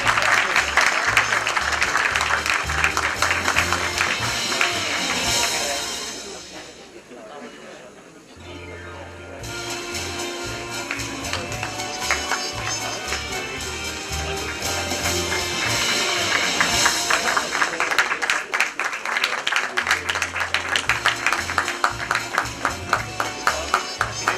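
At an IT awards ceremony, an audience claps for the winning bank team over loud stage music, with the clapping rising and falling and briefly thinning midway before swelling again.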